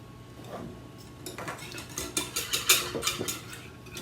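Eggs whisked in a bowl, with quiet tapping at first building into a quick, steady run of light clinks as the whisk strikes the bowl's sides.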